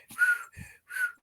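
A man whistles to imitate the wheezing lungs of a two-year-old child with breathing difficulty, three short high-pitched wavering whistles, close and clear.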